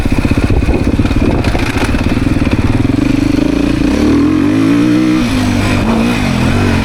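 A Beta dirt bike engine revs loud and close on a demo ride, its steady throbbing rising and falling continuously, with a rattling clatter over the engine note.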